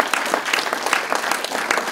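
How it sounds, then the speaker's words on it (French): A church congregation claps together during worship, dense steady applause with a rhythmic pulse of many hands, close and continuous for the whole stretch. "On peut applaudir le Seigneur"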